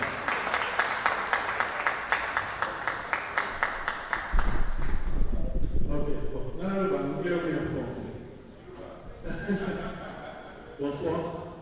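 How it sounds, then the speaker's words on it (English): A church audience claps rhythmically for a minister at a graduation party, steady even beats at first, then swells into louder mixed applause and cheering with voices and chatter over it. "can we clap our hands for the man of God"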